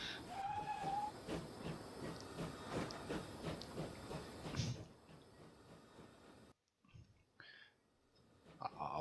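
A train pulls out of a depot in the Transport Fever video game, a steady rumbling hiss with rhythmic clatter for about five seconds, then quieter ambience with a brief dropout and faint game sounds.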